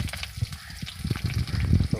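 Sliced onion hits hot oil with dried red chillies and starts frying, a crackling sizzle that swells and grows busier toward the end, with a faint voice in the background.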